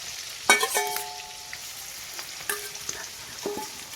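Onions go into hot oil for biryani, giving a low background sizzle punctuated by a few sharp metallic clinks and scrapes of a spoon against the pot, with no speech.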